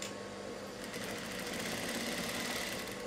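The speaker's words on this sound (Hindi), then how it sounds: "अभी मैं धीरे धीरे करके सिलाई करती जाऊँगी और पिन निकालती जाऊँगी" A sewing machine stitches a blouse with a steady, fast mechanical whir and rapid needle rhythm, running continuously at close range with no voices.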